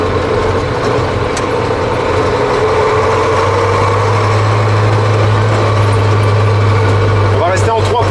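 Ural 4320 6x6 Russian expedition truck engine droning steadily while driving, a loud constant low rumble throughout with faint cabin noise and brief speech in the background.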